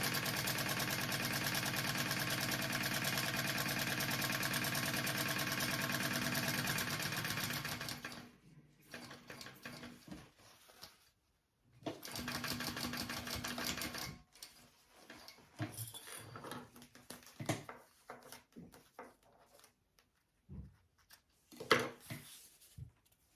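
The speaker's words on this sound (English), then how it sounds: "I'm just going to baste the rest of these 2 pieces together because I want it to be one full panel" Sewing machine basting two fabric panels together, a loud, steady mechanical whir running continuously at close range for several seconds, then shorter stop-start bursts with quiet gaps and small handling sounds.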